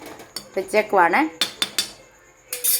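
A spoon scrapes and clinks against a pot in a string of short, distinct strokes with brief pauses, close up, as duck curry is mixed together.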